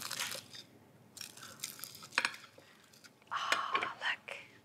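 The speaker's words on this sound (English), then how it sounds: "it's so crispy, listen" Crunchy crackling and chewing of a crispy breakfast wrap being bitten and broken, close and fairly soft, in short bursts alongside quiet breathy speech.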